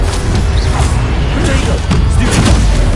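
An Incendio fire spell cast in Hogwarts Legacy erupts as a loud, close, continuous roaring whoosh with deep rumbling and crackling, sustained throughout without pause.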